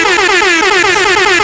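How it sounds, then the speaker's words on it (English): A loud, continuous air horn blares without a break, its steady brassy tone wavering slightly in pitch throughout, with no voices over it. "Oh, we have got an air horn."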